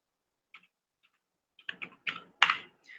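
Keystrokes on a computer keyboard as a command is typed in a RHEL 9 terminal: a few isolated taps, then a quick cluster of clicks, close and fairly quiet with no talking.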